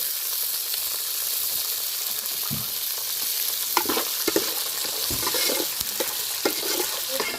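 Coriander seeds sizzle and crackle in hot oil in a pan while green chilli chutney is prepared, a steady frying hiss with scattered pops and a few stirring scrapes, close and continuous, with no talking.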